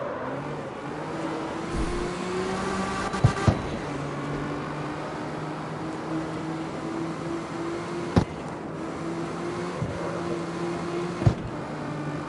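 A car engine in the CarX Street street-racing game holds a steady drone for several seconds with a handbrake drift, punctuated by a few sharp clicks and knocks, with no voices.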